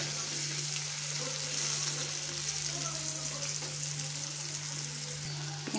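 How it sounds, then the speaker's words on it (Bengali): Chopped onion with panch phoron fries in a pan while being stirred, a continuous close hiss and sizzle with faint scraping, backed by a steady low hum throughout. "পেঁয়াজটা একটু নাড়তে থাকছি।"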